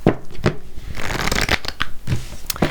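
Tarot cards being shuffled by hand, with repeated crisp riffling bursts and short flicks coming close up and loud, in quick irregular rhythm, with no one speaking.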